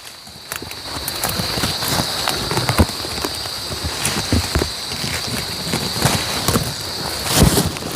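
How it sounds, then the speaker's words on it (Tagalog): Steady rain falls outdoors on a chili pepper farm, a constant close hiss with scattered drops and taps running unbroken throughout. "naabutan na kami ng ulan, pero okay lang"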